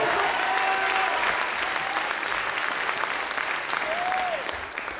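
Full applause from a crowd in Le Havre's Théâtre de l'Hôtel de Ville, dense and even, with a short whistle partway through before the clapping thins out at the close.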